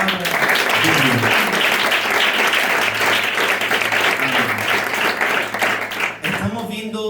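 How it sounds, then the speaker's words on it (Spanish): A church congregation applauds the word of God after a Spanish-language sermon reading, a loud, sustained wash of clapping with voices mixed in, cutting off near the end. "Y ese fuerte aplauso a la palabra de Dios."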